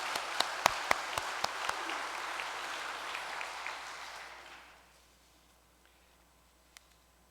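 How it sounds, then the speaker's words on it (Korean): A church congregation applauds with a burst of sharp claps that thin out and fade to quiet, followed by a single late clap. "다시 한번 큰 박수 올려주시면"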